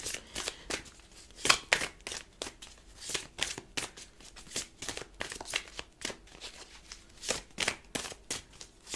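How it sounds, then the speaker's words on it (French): A thick, oversized deck of cards is riffled and shuffled at length, giving a long run of crisp, rapid flicking bursts at close range with brief pauses between them, and no talking. "il y a des personnes qui vont râler parce que je bats les cartes trop longtemps"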